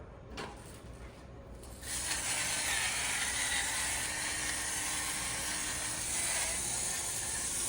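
Black pepper is ground into a pot of vegetable soup. A click comes first, then a continuous rasping, ratcheting grind runs close and steady for about six seconds.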